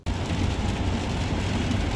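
Steady rain beats on a moving car on the way to a barbecue spot, a dense, loud, even wash of drops with road rumble beneath and no talk.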